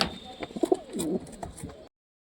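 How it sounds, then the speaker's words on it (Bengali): Pigeons coo and rustle at close range while feeding, soft low calls rising in a cluster mid-way, with faint chirps and a brief cold-weather background hiss before the sound cuts off. "কবুতরদের দেখো খাইতে দিছি সব খাচ্ছে দেখো"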